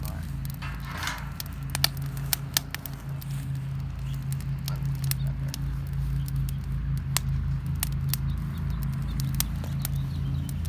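A campfire in a fire pit at a campsite burns well, giving off sharp scattered crackles and pops over a low steady rumble of flame, close by, with no one talking.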